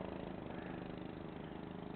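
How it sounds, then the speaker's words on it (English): A boat fitted with a homemade four-stroke outboard built from a 14-horsepower tractor engine, running in a steady, even drone on a lake, faint and continuous with no voices. "he's got a 14 horse tractor motor on it"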